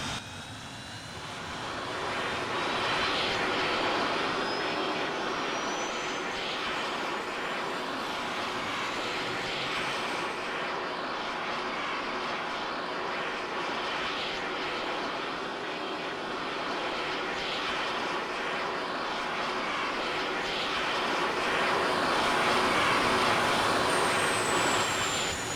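A Harrier jet aircraft's engine roars steadily and loudly throughout, a broad sustained rumble with a faint rising whine, no voices heard.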